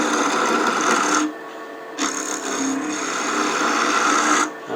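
A woodturning gouge shears a wooden apple spinning on a lathe, giving a loud, close, continuous rasping cut in several passes separated by short pauses.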